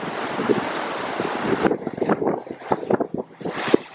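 Strong typhoon wind lashes a seaside home on a small island during a No. 10 storm signal, first as a steady rushing roar, then as choppy, buffeting gusts close to the microphone.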